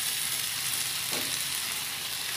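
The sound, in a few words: stir-frying tofu skin with bell peppers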